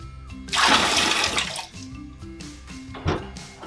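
Water from a sterilizer chamber dumps out in a loud rushing pour that swells quickly, fades over a couple of seconds, then gives a brief second splash near the end, with no voices.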